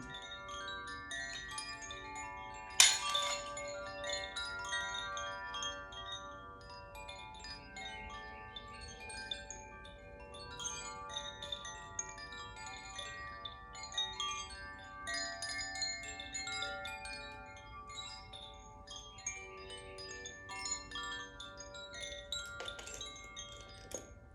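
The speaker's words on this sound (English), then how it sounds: "I like the chimes." Delicate metallic chimes ring and shimmer softly during a sound cleansing, struck several times with long overlapping tones that linger and fade, quiet and unhurried.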